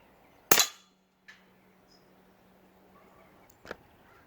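An Ataman AP16 .22 caliber PCP air pistol fires a pellet with one sharp, close crack, followed by a couple of faint clicks in an otherwise quiet space.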